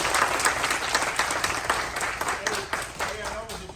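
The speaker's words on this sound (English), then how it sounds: "So let's give him a hand." A small group applauds a guest speaker at a high school wrestling practice, a burst of steady, fairly close clapping lasting a few seconds with no talking over it.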